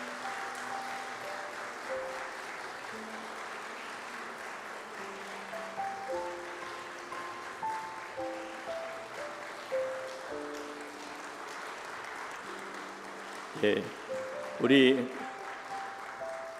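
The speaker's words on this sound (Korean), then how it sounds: "우리 박수로 축하해 주시기를 바랍니다." A church congregation applauds at an elder installation thanksgiving service, a steady wash of clapping running throughout with sustained instrumental tones, plus a couple of sharper knocks near the end and a voice speaking briefly.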